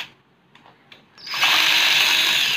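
A power screwdriver removing screws from an aluminum blind fitting whirs up after a few soft clicks and then runs as a steady, close, high-pitched motor whine.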